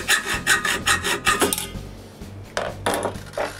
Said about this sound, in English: Now I can cut all the stainless steel rods for the links pivots.